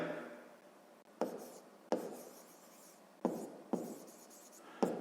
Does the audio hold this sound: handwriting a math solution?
yes